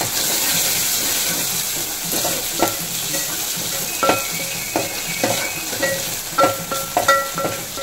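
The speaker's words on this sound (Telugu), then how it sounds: "ఉల్లిపాయ వేగాక కొంచెం అల్లం, తర్వాత పసుపు కొంచెం, వాటిని ఒకసారి కలుపుకోవాలి" Onion fries with ginger and turmeric in a pan for a dry prawn tomato curry, giving a steady sizzle and hiss with repeated scraping stirs and clinks of the spoon that grow busier toward the end, without voices.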